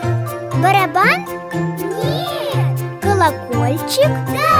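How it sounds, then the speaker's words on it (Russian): A small bell tinkles in a children's cartoon, bright jingling mixed with a child's sing-song voice and chatter throughout. "Колокольчик? Да."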